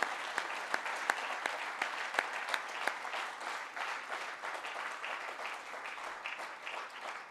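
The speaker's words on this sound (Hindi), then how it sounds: "एक बार जोरदार तालियों की गुजारिश करता हूं" Enthusiastic applause from a lecture audience, opening with a few sharp distinct claps and then swelling into a sustained, even wash of clapping that continues to the end.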